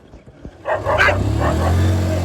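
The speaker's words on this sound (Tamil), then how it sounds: "என்னடா ஃபஸ்ட்டே நாய் சவுண்டோட வீடியோ ஆரம்பிக்குதுன்னு பார்க்குறீங்களா?" Dogs barking at an outdoor spot in Thanjavur, a few sharp barks rising into a loud, sustained yelping run over a steady low rumble of background noise.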